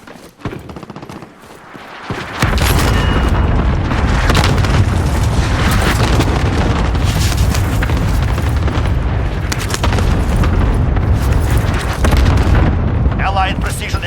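Airstrike explosions in the video game Warzone (Rebirth Island quads, construction site area): after a quieter start, a sustained loud barrage of booms and blasts rolls on continuously, with gunfire mixed in and a voice speaking over it.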